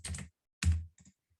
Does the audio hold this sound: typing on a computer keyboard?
yes